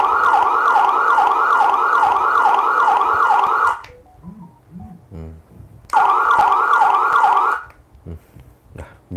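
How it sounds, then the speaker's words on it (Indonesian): A loud wailing electronic siren cycling rapidly up and down, cutting off briefly with faint noises in the gap, then sounding again before stopping. "Okay, dia ada siren eh. Channel 3 siren."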